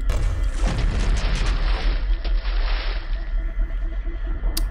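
A grenade explodes in a video game, a deep rumbling boom that rolls on for several seconds and then slowly fades out, with no speech over it.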